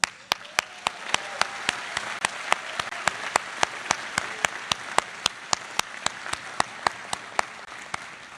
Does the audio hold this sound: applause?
yes